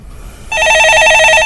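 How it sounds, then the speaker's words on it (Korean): During a radio stock-market call-in show, a telephone rings with a loud, close electronic trill that starts abruptly after a brief quiet moment and continues for about a second. "예, 전화 받아보겠습니다."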